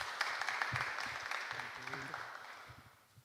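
An audience claps and cheers to open a Lenten talk at a church gathering, with broad steady applause and a few voices in it. It starts loud and fades gradually over about three seconds.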